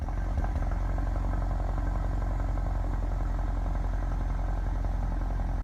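The engine of a 2018 Ford Focus RS, an inline four, runs steadily close up, giving a constant rough, clattering drone with no change in pitch.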